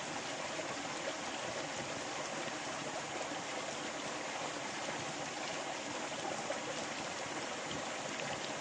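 A creek flows in a steady, even rush of water, moderately close and unbroken for the whole stretch, with no voices over it.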